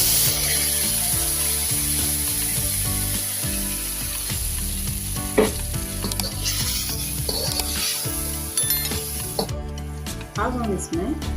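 Tomato gravy is poured over bay leaf and whole spices sizzling in oil for masala rice, producing a loud, continuous hiss with pan clatter that dies down near the end.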